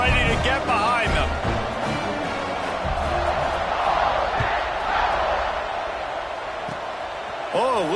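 A football stadium crowd roars in a dense, steady wall of noise just before kickoff, loud and continuous, with a commentator talking over it.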